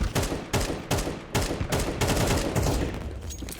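Rapid gunfire from a rifle in the video game Counter-Strike 2, with several loud, close bursts of shots fired in quick succession and separated by brief gaps, and no talking.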